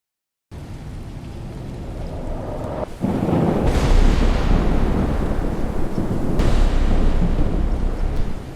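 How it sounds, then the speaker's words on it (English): Steady heavy rain roars throughout, with a deep rumbling surge of thunder swelling in partway and lingering loudly beneath the downpour. "Then the storm came. Rain tore through Enugu. Violent winds shook the mansion."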